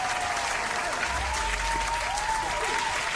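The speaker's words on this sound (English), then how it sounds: "We'll give Paul a cheer for that." Steady crowd applause rises as a game effect in the digital board game Dune Imperium, a dense even clapping wash that holds at moderate loudness with a faint voice beneath.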